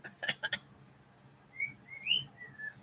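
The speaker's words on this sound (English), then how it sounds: "He sounds like a happy bird." A pet bird, well fed, gives a quick burst of three sharp chirps, then a string of rising and falling whistled notes. The calls are moderately close and clear against a quiet room.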